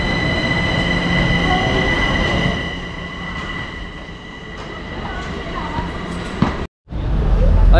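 A subway train in Kaohsiung, Taiwan rumbles along with high steady tonal whines and squealing wheels, loud and close, while people talk nearby; the rumble eases midway, then cuts off briefly before resuming near the end.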